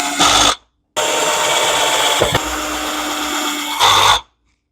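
A power drill drives four screws back into a Windsor Sensor (Sebo X4 series) vacuum cleaner, giving a loud, close, steady whirring run broken by short pauses, with a brief clunk midway.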